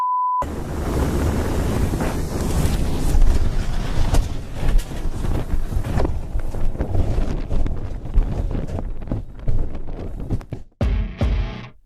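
Strong wind roars and buffets the microphone through a whiteout snowstorm in Iceland, loud and continuous with gusting surges before it cuts off abruptly near the end.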